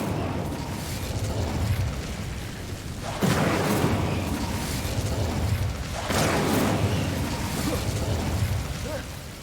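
An Incendio fire spell cast in Hogwarts Legacy bursts out as a loud whooshing, roaring blast, with two strong eruptions about three seconds apart over a continuous rumbling game soundscape.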